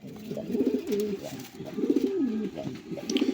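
Several pigeons coo steadily nearby, their soft throaty calls rolling in repeated bursts with a faint background murmur.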